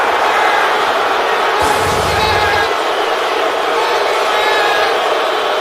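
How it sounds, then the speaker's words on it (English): A packed stadium crowd of Detroit Lions fans roars in anger at a Houston Texans game, a loud, dense, unbroken wall of jeering that swells briefly with a low rumble near the middle. "And this Lion crowd is livid."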